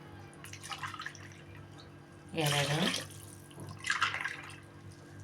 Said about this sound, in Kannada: 5 ಗ್ಲಾಸು ನೀರು ಹಾಕಬೇಕು ನೋಡಿ